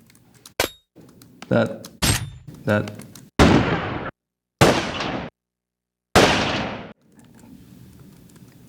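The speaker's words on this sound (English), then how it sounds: "the main breakdown is the little mechanism, the high cracky gunshot and the low mid kind of gunshot" A layered film gunshot sound effect made of a small mechanism click, a high cracking report and a low-mid gunshot body. Several sharp, loud shots fire in sequence with silent gaps between them, and a brief voice comes in near the start.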